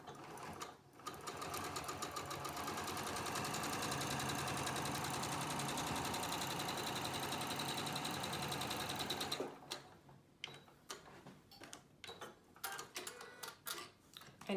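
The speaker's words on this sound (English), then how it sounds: "we're going to sew that seam." A sewing machine stitching a quilt seam runs in one steady, fairly loud continuous burst for about nine seconds, then stops and leaves only scattered small handling clicks and rustles.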